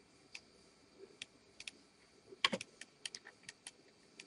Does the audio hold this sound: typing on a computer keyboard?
yes